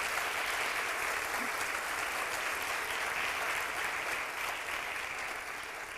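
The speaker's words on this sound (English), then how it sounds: "Give them all a round of applause." An audience at a scholars' luncheon applauds, a dense, continuous wash of many hands clapping throughout, fairly near and steady, tapering slightly at the end.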